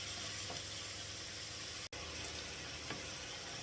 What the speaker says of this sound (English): just cook that off and keep on squashing it like that until all the mince is cooked